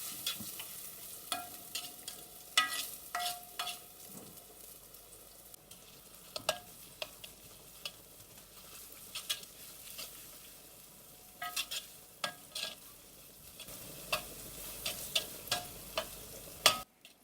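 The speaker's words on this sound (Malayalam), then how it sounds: "ഇനി ഇവിടെ ഈ ഓയിലൊന്ന് ചൂടായതിന് ശേഷം ഇതിലേക്ക് ഇഞ്ചിയും വെളുത്തുള്ളിയും ചേർത്ത് കൊടുക്കാം." Sliced ginger and garlic sautéing in hot oil for a spicy chicken dish, with a soft steady sizzle broken by frequent sharp scrapes and taps of a spoon stirring against the pan, alone with no talking.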